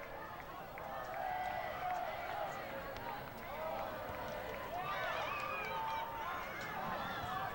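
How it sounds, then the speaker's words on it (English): Spectators at a high school boys soccer championship game, Class 2A, Peoria Notre Dame versus Norridge, with a steady crowd roar, scattered shouts and whistles throughout, swelling louder midway, with a voice talking over it. "Both teams' crowds starting to get into the game."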